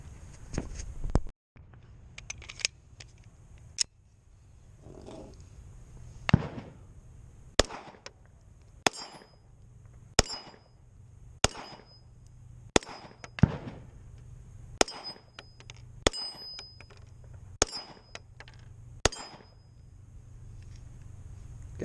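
Gunshots from a customized full-size Smith & Wesson M&P 1.0 pistol being test-fired outdoors, about a dozen sharp loud cracks at uneven intervals over twenty seconds, some with metallic ringing and pauses between.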